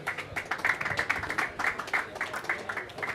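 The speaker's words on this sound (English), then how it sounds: "Give him a round of applause for Sean." Audience at a Boston fashion and culture panel clapping for a panelist, a moderately quiet run of many hands with individual claps standing out.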